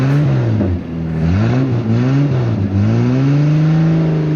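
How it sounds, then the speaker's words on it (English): A Toyota race car engine, freshly filled with oil, runs loud and close, revving up and down several times in rising and falling sweeps before settling into a steady high idle. "Now that the engine's been full of oil, let's watch it get started."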